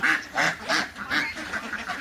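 Farm ducks quack at feeding time, with repeated nasal calls coming in bursts roughly every half second, fairly close and moderately loud, with no talking.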